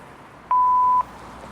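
An answering machine gives a single clean electronic beep lasting about half a second, loud and close against a quiet background.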